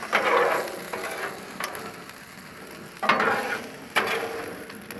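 Potatoes frying in oil on a Blackstone griddle, a steady sizzle broken by a few louder scraping and stirring bursts as a spatula mixes them.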